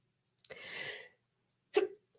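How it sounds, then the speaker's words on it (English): A single sneeze bursts out close up, a short breathy intake followed about a second later by the sharp, explosive release, with quiet before and after. "I have to sneeze 1 second here."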